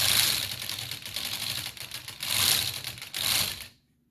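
A small Lego brick V4 engine runs with a rapid, dense mechanical clatter of plastic parts, steady and close, swelling slightly in bursts before stopping abruptly near the end.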